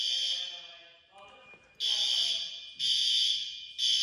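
A System Sensor L-series fire alarm notifier sounds during a middle school fire drill, a loud piercing electronic tone in repeated on-off bursts, with muffled voices and background noise in the gaps.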